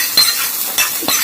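Hot tempering (tadka) sizzles for a small pot of dal, loud and close, with three short bursts of stirring scrapes over a steady frying hiss.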